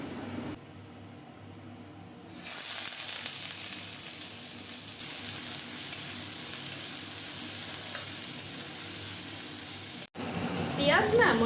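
Onions sizzle and fry in a pan in a home kitchen, a steady close hiss that grows louder after a couple of seconds, with a few stirring scrapes and someone talking over it.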